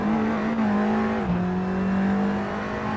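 A TCR touring race car engine in a sim racing game on the Adelaide Street Circuit holds a steady high drone, then drops pitch at a gear change and settles into a sustained onboard roar.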